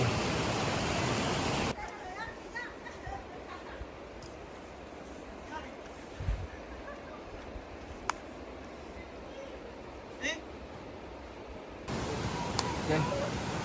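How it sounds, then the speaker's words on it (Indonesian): A mountain river on Mt Gandang Dewata rushes as a loud, steady roar, dropping to a quieter wash in the middle with scattered knocks before the full roar returns. "jadi ini adalah sungai keempat, sungai terakhir dari pos 5 tadi yang akan kita lewati"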